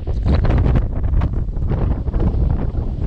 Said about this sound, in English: Unfortunately, it's a bit windy today.